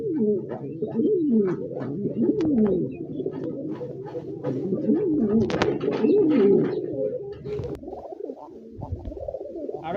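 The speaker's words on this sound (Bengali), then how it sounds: "রাজগোল্লার একটা বিশাল সাইজের নর কবুতর" A large Rajgolla male pigeon and other pigeons cooing in close, rolling, repeated phrases that overlap steadily, with a brief quieter stretch near the end.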